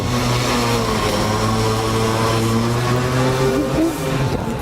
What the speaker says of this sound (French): Laisse passer les mobilettes.